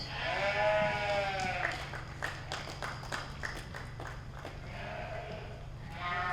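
Ewes bleating at a 4-H sheep show, with a few wavering, fairly close bleats at the start and end and scattered hoof clatter on a hard floor over a steady low hum.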